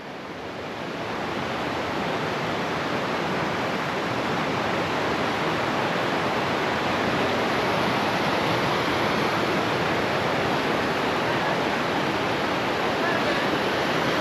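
River water rushing over rocks near a forest trekking trail by Kirahan village, Kasol, heard as a steady, loud, broadband roar that stays constant throughout with no talk over it.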